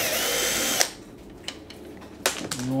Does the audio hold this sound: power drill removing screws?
yes